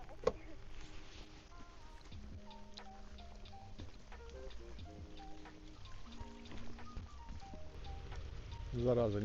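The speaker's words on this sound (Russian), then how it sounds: "А дождь что-то все сильнее и сильнее." Heavy rain pours steadily on an outdoor fishing spot, a dense continuous hiss that swells louder toward the end, with faint tonal voice-like sounds drifting underneath.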